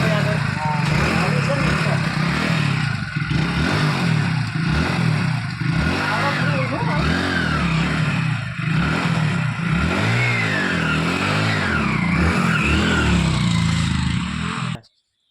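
A motorbike engine idles and revs in repeated bursts, rising and falling pitch, close by, with people talking over it.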